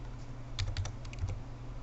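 Typing on a computer keyboard while setting a contrast value in editing software: a short burst of several crisp key clicks in quick succession, near and clear over a low steady hum, no voice.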